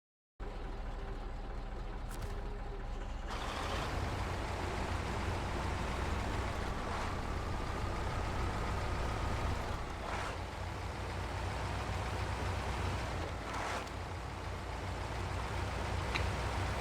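Truck engine rumbling steadily in a PC video game, a continuous mechanical drone with faint intermittent tones over it, no voices.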